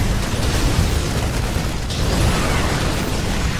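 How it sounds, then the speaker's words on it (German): A big in-game explosion from StarCraft 2 Wings of Liberty, a dense, loud, sustained roaring rumble with no talk over it. "Boah, fette Explosion."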